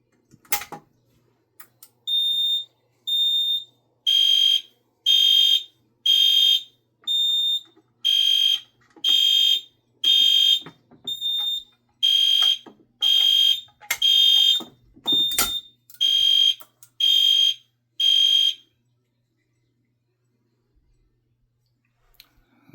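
A Vigilant VS-1 fire alarm panel, triggered by a pull station during a test, sounds in a long series of sharp, repeated electronic beeps in even pulses, preceded and followed by a few faint clicks.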